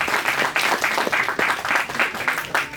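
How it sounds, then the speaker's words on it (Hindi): An audience at a Hindi poetry performance breaks into applause, a dense, lively round of clapping with a slightly pulsing rhythm that carries on throughout. "जोरदार तालियां, क्या बात है।"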